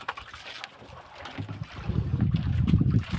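Gusty wind from a typhoon buffets the microphone while water sloshes and waves wash in, growing rougher toward the end.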